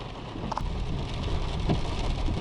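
Rain falls steadily just after a hailstorm in Helper, Utah, a constant patter and hiss on surfaces close by, with a few brief louder drips and no voices.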